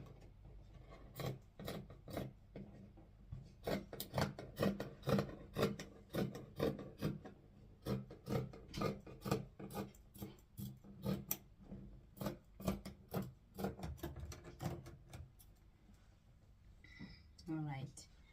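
Scissors snip rhythmically through fabric for a drawstring skirt, a long run of close, crisp crunching cuts while a voice talks quietly in places.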